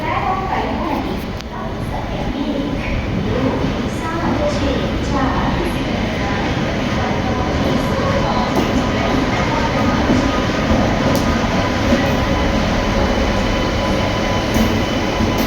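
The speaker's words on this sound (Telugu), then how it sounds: "ఐ థింక్ ఇది చార్మినార్ ఎక్స్ప్రెస్ అనుకుంటా" The Charminar Express sits at Secunderabad railway station with a loud, continuous rumble of the train and rail machinery, while a busy platform crowd murmurs underneath.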